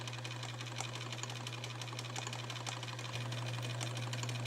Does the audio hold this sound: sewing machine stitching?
yes